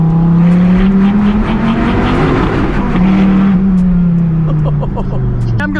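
A Dodge Viper V10 with side pipes rumbles loudly and close. Its deep, steady engine note swells and dips in pitch through a couple of revs before settling.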